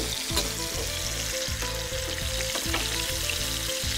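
Boneless chicken thigh pieces fry in a pan at medium heat, giving a steady close sizzle with faint crackle and occasional stirring scrapes throughout, with no one talking.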